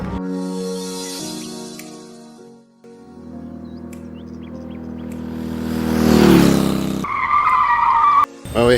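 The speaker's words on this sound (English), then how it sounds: "She's having practice on the scooter" A scooter ridden by a learner during a first motorbike lesson in Goa, India, with a droning engine that rises and falls as it passes close by, plus a sharp high squealing tone and a brief cut near the end.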